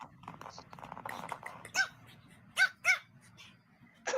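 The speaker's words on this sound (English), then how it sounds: "The little dog barking." A small dog gives several sharp, distinct barks spaced irregularly, close and fairly loud, after a stretch of quieter background chatter.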